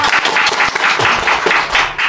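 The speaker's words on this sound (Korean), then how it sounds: "손뼉으로 맞이해 드릴게요" An indoor forum audience claps to welcome a professor to the podium, a dense burst of loud applause that stays full for the whole short moment.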